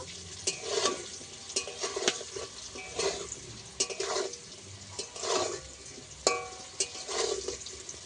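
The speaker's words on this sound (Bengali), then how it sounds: "দিয়ে কচুটাকে ভেজে নেব" Taro pieces seasoned with salt and turmeric fry in oil in a pan, a steady crackling sizzle broken by periodic stirring scrapes and clinks of a utensil, close and fairly loud.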